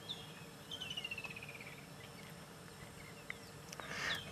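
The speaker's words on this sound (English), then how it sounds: "Two lilac-breasted rollers. And they are very beautiful birds." Two lilac-breasted rollers call at an evening safari game drive, giving a run of harsh, descending chattering notes early on, then a louder burst near the end over a steady insect and night ambience.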